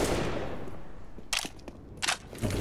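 Sharp bursts from stacked grenades in the shooter game CS:GO crack out in a few separate loud hits after a fading rumble, with no talking over them.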